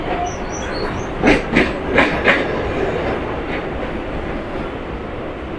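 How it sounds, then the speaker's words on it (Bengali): A Kolkata suburban local train runs from Park Circus toward Ballygunge Junction, with a steady close rolling rumble inside the carriage and a few sharp wheel clicks over rail joints. "আমাদের ট্রেনটি এখন পার্ক সার্কাস ছেড়ে দিল, আর এই ট্রেনটির পরবর্তী স্টেশন হচ্ছে বালিগঞ্জ জংশন"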